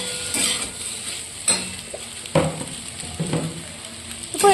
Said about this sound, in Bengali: এরপর এটাকে খুব ভালো করে ভেজে নেব।